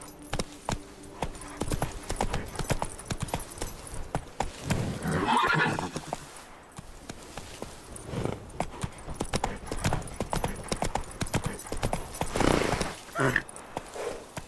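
Roach the horse gallops in The Witcher 3 with steady clip-clop hoofbeats and a loud whinny partway through, continuous and close amid game sounds.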